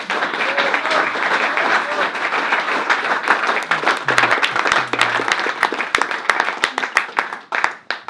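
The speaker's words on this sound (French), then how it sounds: "Je vous propose d'applaudir" An audience at a talk-and-reading evening claps in sustained, dense applause that thins into scattered individual claps toward the end, loud and near.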